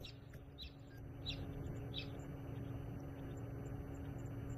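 A fork-tailed drongo gives short, sharp mimicking chirps in the wild, several quick calls early on above a steady low hum and background noise.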